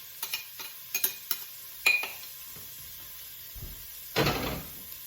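Chopped onion and half a head of garlic tipped into a saucepan for a minced beef stew: a few light clatters and scrapes of utensil on pan, then a sudden loud sizzling burst as the food lands, fading slightly.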